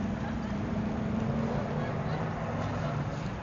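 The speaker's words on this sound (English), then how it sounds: "it was quite a gust of wind just then." A gust of wind rumbles across the microphone of a handheld gimbal camera on a city street heading into downtown Toronto, a steady low buffeting roar that holds for several seconds.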